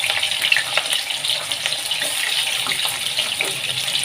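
Boiled cauliflower frying in hot oil, heard as a steady, close, hissing sizzle with faint crackles that carries on throughout.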